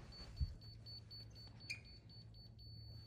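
A laser level receiver beeps at a septic system layout site, a thin high tone pulsing steadily and faintly through the whole stretch over quiet outdoor background.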